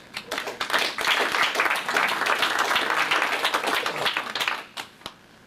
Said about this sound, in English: A round of applause for all you people for being part of the community that is making it all happen.